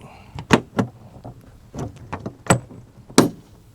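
A reassembled motorcycle lid with a new latch is shut, giving a series of sharp plastic clicks and knocks, about six distinct impacts spaced unevenly, close and moderately loud with no speech.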